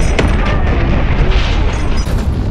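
A cruise missile explosion in Call of Duty Modern Warfare, a loud sustained booming blast filling the whole moment with a dense low rumble and a sharp crack near the start.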